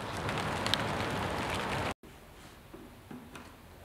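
Rain falls outdoors in a steady, dense hiss close to the microphone. After a brief cut it continues more softly, with a few faint knocks in the background.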